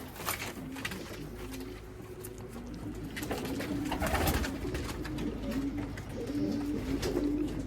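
Racing pigeons coo softly and repeatedly inside a loft, a steady layered murmur of several birds with faint voices in the background.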